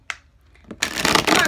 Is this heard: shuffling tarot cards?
yes